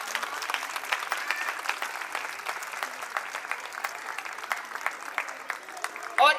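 Applause from parents in the audience at a school annual day function, a steady dense patter of many hands clapping throughout, fairly near, with a brief louder burst at the very end.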